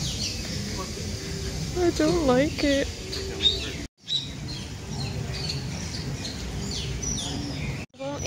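Dense, lively chorus of many tropical birds chirping and calling all around inside an aviary at Disney's Animal Kingdom, a steady layer of tweets and whistles, with a person speaking briefly over it.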